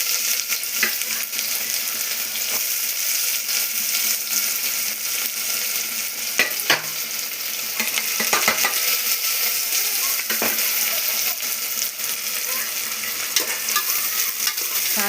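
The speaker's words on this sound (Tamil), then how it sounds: "எண்ணெய் ஊற்றி பட்டை லவங்கம் போட்டு சூம்பு போட்டு" Oil frying cinnamon, cloves, fennel and onion for tomato rice, a dense continuous sizzle close up, broken by occasional sharp spatula clinks against the pan.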